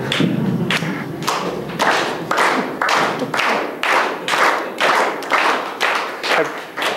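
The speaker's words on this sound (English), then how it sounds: "Applause." A lecture audience applauds at a university talk on Wagner, loud, steady clapping in strong rhythmic waves that carries on for several seconds without speech.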